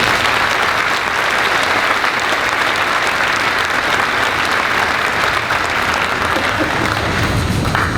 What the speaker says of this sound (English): Please give all those on stage and our special guests a round of applause.